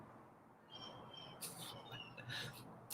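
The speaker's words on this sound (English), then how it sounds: "The avians are noisy this morning." Faint birds chirp in the morning, with thin tweets and brief calls repeating over a steady background hiss of insects or distant ambience, all fairly quiet.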